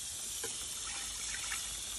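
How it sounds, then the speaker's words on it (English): Water from a tap gushes steadily into a large bowl, a constant hissing splash at low level with no voices. "I went straight to the tap and turned it on and started filling up my massive bowl"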